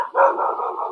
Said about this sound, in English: Apologies to the viewers for the dog.